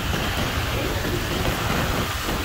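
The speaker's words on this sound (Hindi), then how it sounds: "तेज रफ्तार धुआंधार इस वक्त बारिश का सिलसिला शुरू हो गया है" Heavy monsoon rain pours down in Sujani Town, Karachi, a loud, dense and constant hiss close by with no pauses and no voices.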